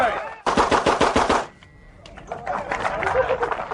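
A burst of rapid gunfire, six quick shots, a brief pause for a reload, then another fast string of shots, loud and close, with voices in the background during the second string.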